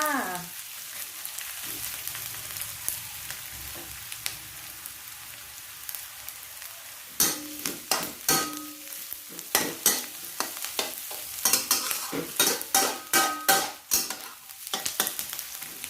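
Onions stir-frying in a pan over medium heat, a steady soft sizzle at first, then a run of loud scraping, clattering stirs in the second half, with no talking.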